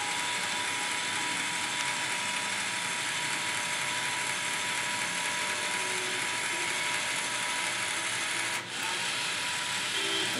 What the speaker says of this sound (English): We are giving a 220 volt AC supply to this pump, and this is how it moves